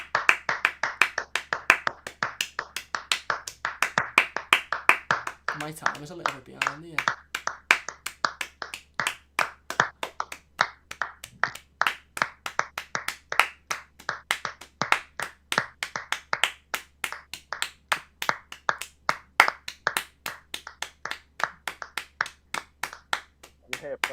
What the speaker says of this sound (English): I'm just going to give a few rounds of applause